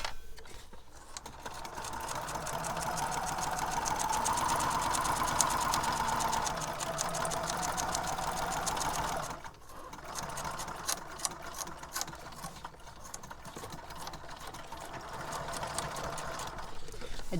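A sewing machine runs a short back stitch while a beach journal is made, giving a steady mechanical whirr that stops briefly midway and then resumes at a quieter, rattling pace.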